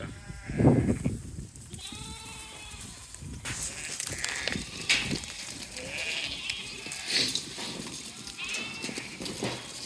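A large flock of Damara sheep, lambs included, on an Australian farm, bleating repeatedly in overlapping calls, some close and loud, others farther off, with occasional human voices mixed in.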